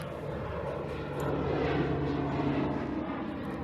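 A light aircraft flies over a hippo pond near Khwai River Airport in the Botswana wetlands, its steady engine drone holding fairly loud and even for a few seconds, swelling slightly midway with no voices.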